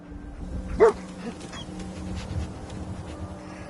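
The dog companion Dogmeat in the video game Fallout 4 gives a single short bark, sharp and fairly close, followed by quieter game ambience.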